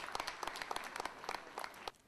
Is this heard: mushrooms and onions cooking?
no